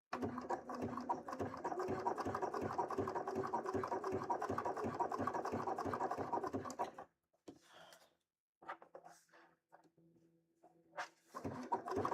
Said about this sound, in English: this sewing machine does such a better job than my other sewing machine